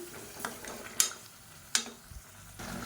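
A spoon stirs chicken gravy masala in a pot, giving a few quiet scrapes and two sharp clinks against the metal over a soft low simmer, with no talking.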